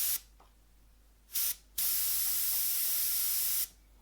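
Airbrush spraying paint onto a portrait, three bursts of steady hiss: a short one, a longer one, then a sustained spray of about two seconds, close and clear with no talking.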